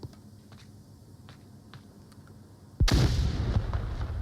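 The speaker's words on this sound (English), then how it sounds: "Flashbang was not effective there." Flashbang grenade detonating in the VR shooter Onward during a competitive match: after quiet background, a single sudden loud broadband blast hits near the end and rings on with dense noise.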